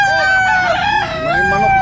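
A chicken at a pet market crows and clucks loudly and continuously nearby, its calls clear over a busy, noisy market background with no talk.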